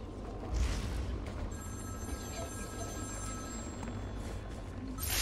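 A telephone rings inside the Batman Arkham City video game, its thin steady tone carrying over a low rumbling ambient bed for several seconds at moderate volume.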